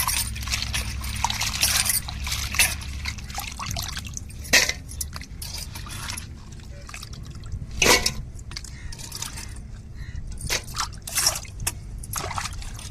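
Cleaned, broken crab pieces are rinsed by hand in water for crab soup, giving soft trickles, drips and splashes with a few louder pours and sloshes, close by and with no talk.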